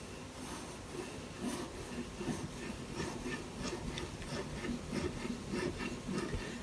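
A Benchmade Bushcrafter 162 knife bevel being sharpened on a Hapstone sharpening system, a steady back-and-forth scraping rasp of stone on steel, close and continuous with no voices.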